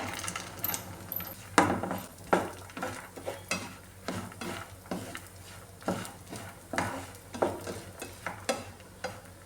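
Chana dal frying in ghee, stirred with a spoon against the pan in a steady series of soft scraping strokes over a faint sizzle, quiet and close, with no talk.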